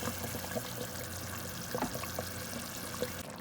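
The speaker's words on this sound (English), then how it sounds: "This is my orange juice." Orange juice pours into a container in a steady, soft liquid stream lasting a few seconds, with faint kitchen background and no talking.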